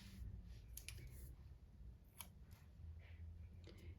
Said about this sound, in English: I think I'm going to just cut this all apart